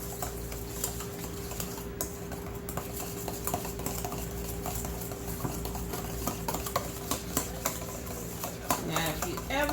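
Yum yum sauce with a little ketchup being stirred in a bowl, a close run of rapid light ticking and scraping strokes under a steady background hum, growing a bit busier toward the end.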